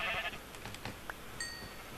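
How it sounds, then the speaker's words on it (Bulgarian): A sheep bleats in a video game, with several short bleats and a thin, higher call near the end, moderately loud against quiet game ambience, with no talk. "някаква овца слезе при мен"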